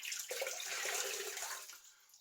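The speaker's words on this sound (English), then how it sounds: "So I'm wetting my face." Water splashing as hands wet a face before a wet shave, a steady soft splash lasting about two seconds then tapering off, fairly quiet and close.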